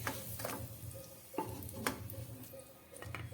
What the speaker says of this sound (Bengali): খুব হালকা করে ক্যাপসিকামটা ভেজে নিলাম।